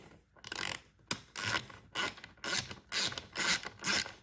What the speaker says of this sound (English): Got the T30 on the 1/4 inch ratchet